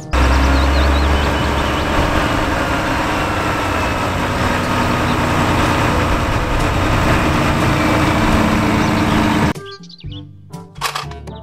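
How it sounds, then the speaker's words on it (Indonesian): A toy sand truck's motor whirs loudly and steadily for about nine seconds before stopping abruptly, followed by a few brief clattering knocks and clicks. "mobil truk pasir."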